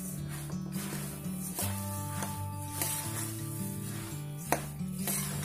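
Thick puffed rice (bhadang) stir-roasted in a pan, giving a steady dry rustling and scraping with light metallic clinks, close up, over a low droning background hum.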